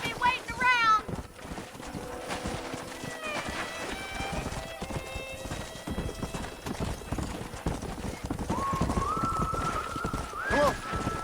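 Horses in the Red Dead Redemption video game, with steady clip-clop hooves and several whinnies and neighs. The hoofbeats keep a rhythm under faint wind and other game sounds, and game dialogue is heard at times.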